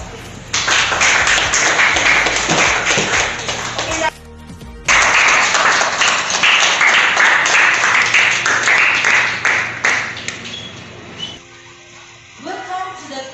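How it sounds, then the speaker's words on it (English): A round of applause at a scholarship program event fills most of the time as dense, loud clapping, with a short break and a quieter tail at the end. "A round of applause, please."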